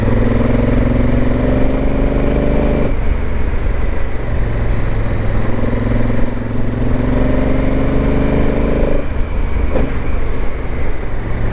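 Motorcycle engine revving steadily while riding under overcast skies, a loud continuous drone that climbs in pitch twice, drops back as gears shift, then climbs again close to the rider.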